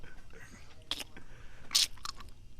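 A comedian imitates Al Pacino chewing gum, making a few wet, smacking mouth clicks and crunches at uneven intervals, close to the microphone, with one sharper, louder snap near the end.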